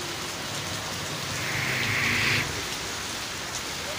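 Steady rain falls in Pir Khurshid Colony, Multan, a continuous hiss of drops on surfaces that swells briefly in the middle, with no voices.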